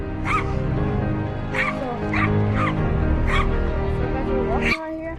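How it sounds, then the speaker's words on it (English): Several dogs barking repeatedly outdoors, a steady series of close, loud barks and yips over a continuous drone, with people talking throughout. "There's a lot of dogs over here."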